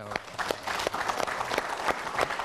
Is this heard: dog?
no